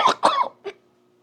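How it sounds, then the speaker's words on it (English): Three quick, close coughs from a person in a home kitchen while cooking crab cakes, two strong bursts followed by a smaller one, then quiet. "I didn't cough in the bowl, I don't think."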